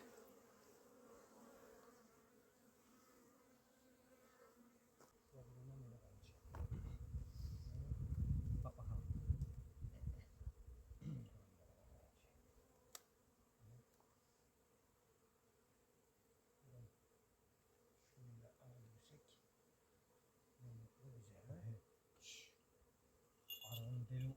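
Bees buzz around a wild honeycomb in a forest during honey harvesting, a low droning hum that swells loudly midway and comes and goes, with people talking nearby and some rustling.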